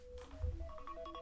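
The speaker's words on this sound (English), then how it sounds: "that's my alarm for the Texans game" A phone alarm set for a Texans game chimes as a short, faint sequence of bright electronic tones stepping up and down in a quick melodic pattern.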